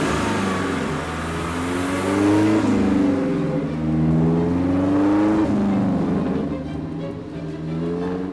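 A classic British car with a big six-cylinder engine revs loudly and up close, the engine note climbing and falling through several strong sweeps with a steady idle beneath.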